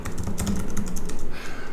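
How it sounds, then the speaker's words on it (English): Fast typing on a computer keyboard during web development coding, a brisk irregular run of close keystrokes. "I always try to type there,"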